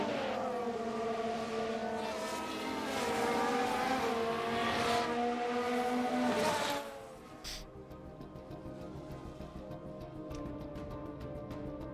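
Formula 1 race car engines in the F1 Manager 2023 racing game: loud, high revving whine with shifting pitch that drops sharply partway, followed by quieter distant engine drone.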